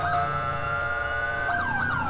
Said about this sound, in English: So we might be able to turn our sirens off when we just use our lights.